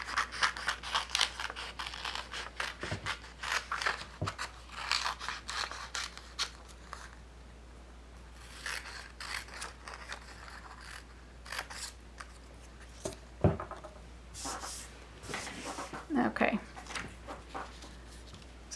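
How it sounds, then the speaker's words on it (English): Scissors snip through fabric while cutting out a plush ponytail piece, a close series of crisp, irregular cuts and scrapes that keep going with pauses, over a low steady background hum. "So I've got this piece cut out, so I'm gonna go ahead and cut out the ponytail."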